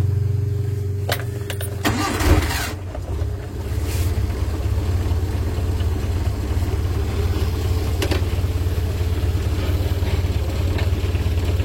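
A Suzuki Carry 1000cc engine cranks with a brief clattering burst, then settles into a steady, close idle hum that holds on with a faint rise near the end.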